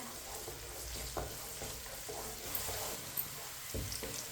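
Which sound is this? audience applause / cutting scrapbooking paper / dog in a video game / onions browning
onions browning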